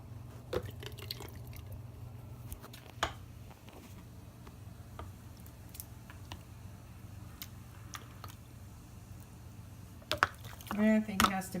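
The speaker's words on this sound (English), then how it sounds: "now I'm going to add some of the more crushed just because it has more juice in it" Crushed tomatoes and their juice are spooned into a glass canning jar, giving soft wet squelches and drips with a few light clinks, quiet and close, louder and wetter toward the end.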